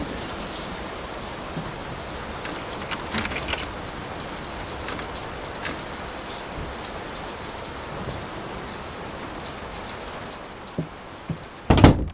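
Steady rain in the horror video game Layers of Fear, a constant dense patter with scattered drips and a few louder knocks near the end.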